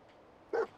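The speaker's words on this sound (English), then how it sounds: "Why's the dog barking?" Dog barking in Fallout 4: one short, mid-range bark near the end of the clip, after a quiet stretch with faint background ambience.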